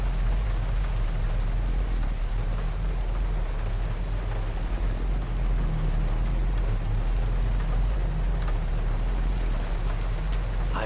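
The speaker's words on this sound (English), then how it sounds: "It is raining." Steady rain in the video game Road 96, a constant dense hiss with a low rumble beneath, holding at an even level throughout with no voices.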